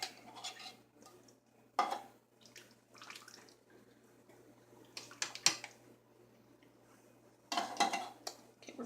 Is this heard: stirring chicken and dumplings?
yes